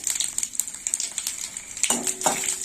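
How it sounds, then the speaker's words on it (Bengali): Cumin seeds, bay leaves and dried red chillies tempering in hot oil for a dal, a soft steady crackle with small scattered pops, a few brief clinks of a utensil near the end. "ফোড়নটা একটু ভাজা হবে"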